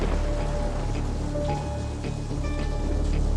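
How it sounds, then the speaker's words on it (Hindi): Steady rain pours in a dramatic film scene, a dense hiss of falling drops that fills the whole moment at an even, fairly loud level, with no talk over it. "ऐसी ही बारिश हो रही थी।"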